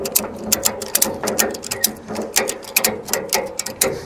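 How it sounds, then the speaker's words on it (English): A Secure Sling super ratchet strap with a swivel hook being cranked, producing a quick series of sharp, close clicks in an uneven rhythm. "And then you ratchet away."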